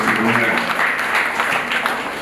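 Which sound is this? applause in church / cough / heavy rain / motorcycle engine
applause in church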